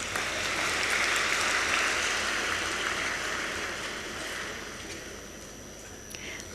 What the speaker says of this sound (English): everyone clapped when Baba said this